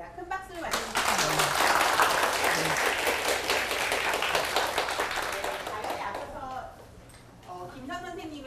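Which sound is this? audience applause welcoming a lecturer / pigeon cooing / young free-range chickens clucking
audience applause welcoming a lecturer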